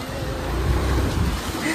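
Floodwater covering a road near a railway station, heard as a steady, loud rushing and sloshing wash of water with wind buffeting the microphone throughout.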